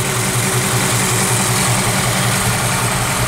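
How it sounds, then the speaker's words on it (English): A 1953 Ford convertible's 239 cubic inch flathead V8 idles close by, a steady, loud, even low rumble with a constant throb and no talking. "this is a 239 cubic inch flathead V8 engine"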